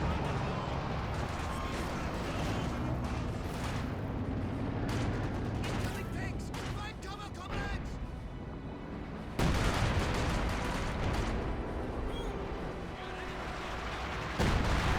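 A Brummbar's bunker buster artillery barrage in Company of Heroes 2: heavy, booming shell impacts and rumbling blasts over a continuous battlefield din of gunfire, loud and dense throughout.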